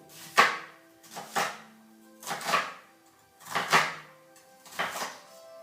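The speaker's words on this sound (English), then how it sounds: "the last ingredient I have to cut, that's the onion" Knife slicing through an onion on a board for a fresh salad, five crisp chopping strokes about one second apart, close and clear with no talk.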